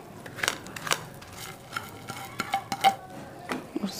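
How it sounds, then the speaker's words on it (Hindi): Roasted panjiri mix of flaxseed, coconut, edible gum and fennel is stirred in a hot pan off the flame, giving close scraping and tapping of a spoon against metal in irregular bursts, with no talk. "इसको थोड़ा सा हम हिलाएंगे क्योंकि ये बहुत ज़्यादा गर्म है"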